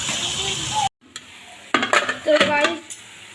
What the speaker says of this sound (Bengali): আর বেগুন ভাজাও প্রায় হয়ে এসছে